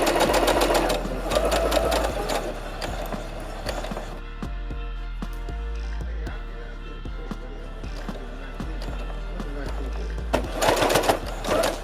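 Sewing machine stitching a seam on a T-shirt, running in steady loud whirring bursts with a slower, softer stretch in the middle before speeding up again.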